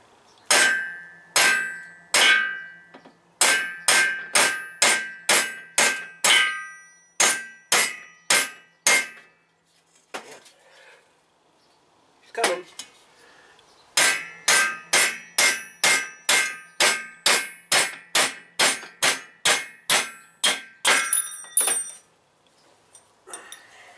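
Sharp metallic hammer blows drive a valve guide out of a VW engine cylinder head, struck in quick rhythmic bursts of a dozen or so with short pauses between sets.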